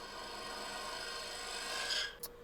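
A Hunter carbide tool peels shavings off a spinning maple burl on a lathe, making a steady close rasping scrape that swells slightly before a brief tick near the end.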